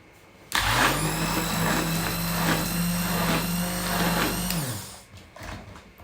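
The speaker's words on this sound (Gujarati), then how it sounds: "તો આપણે આને બ્લેન્ડરથી બ્લેન્ડ કરી લઈએ આવી રીતે બ્લેન્ડરથી બ્લેન્ડ કરી લેવાનું છે" An electric blender whips coffee into froth: the motor kicks in abruptly with a steady whining hum and rattle for about four seconds, then cuts off and winds down, followed by quiet.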